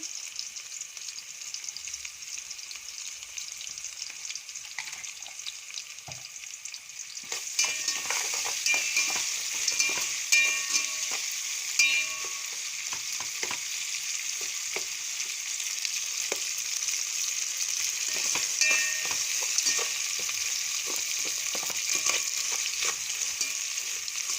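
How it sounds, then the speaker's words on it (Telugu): Salted onions for bagara rice frying in a pan hiss steadily, quieter at first and then louder and fuller after about seven seconds, with scattered spatula scrapes and crackles close by and no voices. "ఆనియన్స్ ఫ్రై అయినాయో లేదో చూద్దాం ఒకసారి"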